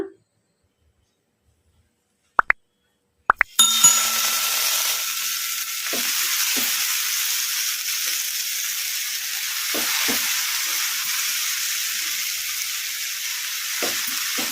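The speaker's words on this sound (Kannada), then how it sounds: "ಈಗ ಇದಕ್ಕೆ ನಾವು ಕಟ್ ಮಾಡಿ ಇಟ್ಕೊಂಡಿದ್ವಲ್ಲ ಪುಂಡಿ ಪಲ್ಯ, ಈಗ ಇದನ್ನು ಹಾಕಿ ಫ್ರೈ ಮಾಡ್ಕೊಂಬಿಡೋಣ." Chopped pundi (gongura) leaves hit hot oil in a kadai after a few sharp clinks, then fry with a steady, fairly loud broadband sizzle for the remaining ten seconds, alone and without talk.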